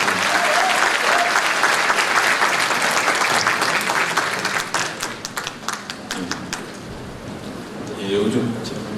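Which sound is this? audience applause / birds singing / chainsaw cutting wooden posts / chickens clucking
audience applause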